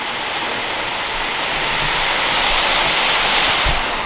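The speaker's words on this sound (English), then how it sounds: "Oh, the rain's getting in." Steady rain falls outdoors, a dense, even hiss of drops that stays loud and constant for the whole stretch, with no voices.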